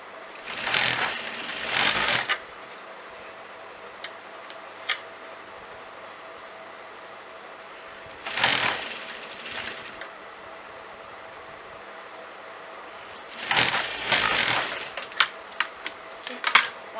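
A sewing machine stitches fabric over piping for a pleated kameez in three separate runs, each about two seconds of steady whirring, with clicks and handling noises in the quiet gaps between.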